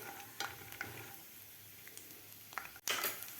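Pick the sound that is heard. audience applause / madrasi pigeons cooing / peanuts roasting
peanuts roasting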